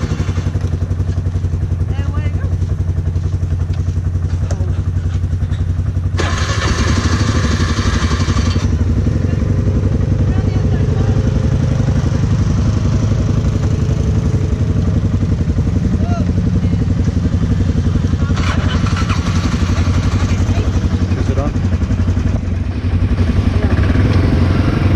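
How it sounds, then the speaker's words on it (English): Off-road motorbikes on a 4x4 outing near New Zealand's Franz Josef and Fox glaciers run with a steady low engine rumble throughout, while people talk over it. "we'll start their bikes first"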